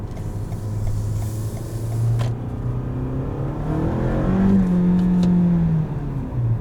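A 2019 Toyota Camry XLE accelerating, heard from inside the cabin as a smooth engine hum whose pitch rises steadily while the revs build, then eases back, with no talking.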